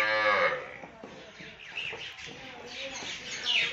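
A Nili-Ravi buffalo offered for sale in Pakistan lets out a loud, drawn-out moo at the start, followed by quieter lowing and some faint bird chirps in the background.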